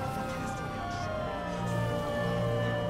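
A police car siren wails steadily in GTA 5 Online, a continuous high tone over a low engine rumble and game noise.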